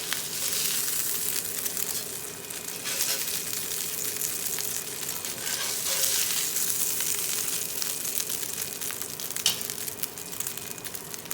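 Salisbury steak patties fry in hot, nearly smoking oil in a pan, giving a steady, dense, close sizzle that runs on without pause and with no talk.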